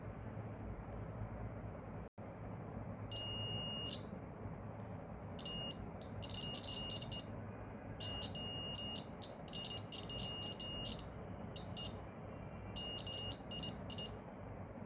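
A homemade mini laser alarm system's buzzer sounds in repeated bursts of shrill, high electronic beeping, loud and close over a low background hum.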